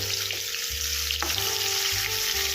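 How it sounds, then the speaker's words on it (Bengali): Kekle fish frying in a pan for a Bengali curry, a loud, continuous close-up sizzle with a low steady hum beneath it and no talking. "মাছগুলো একটু ভালো করে ভাজতে হবে।"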